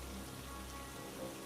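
Heavy rain pours down continuously, a dense even hiss of drops on surfaces with no gaps, moderately loud and steady throughout.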